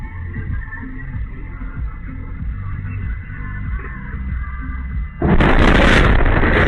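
Explosion from an attack in Voronezh, Russia, picked up by a security camera: steady loud music plays throughout, then a sudden broad roaring blast bursts in near the end and sustains.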